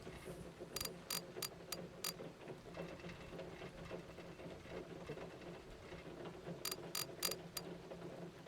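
A ratchet bolts a part down on an old junkyard truck, producing two quick bursts of sharp metallic clicks, one early and one near the end, over a low, quiet background hum.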